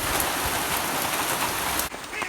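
Rain keeps falling after a heavy storm, a dense, even hiss with scattered drops that eases slightly near the end.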